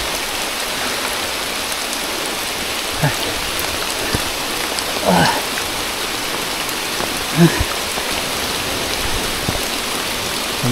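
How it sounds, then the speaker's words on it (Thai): Steady heavy rain pours down in a dense, constant hiss, with a couple of brief faint sounds rising briefly above the downpour. "ตอนนี้เรามีปัญหาเรื่องฝนตกนะครับ"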